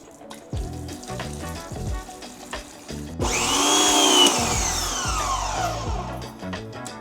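A pressure washer with a newly hooked-up hose starts and sprays water with a loud, steady hiss and whine of the machine, preceded by knocks and handling noises, near and without speech.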